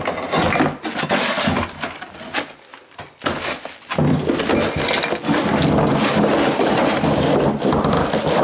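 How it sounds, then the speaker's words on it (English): Loud cracking and crunching of a builder's-grade tile shower pan breaking apart under a hammer, with sharp impacts, a brief pause, then sustained grinding debris noise. "when they're wet, they're a lot easier to crack"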